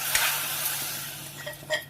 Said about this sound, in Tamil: மீன் குழம்புக்கு நம்ம தாளிச்சு கொட்ட போறோம்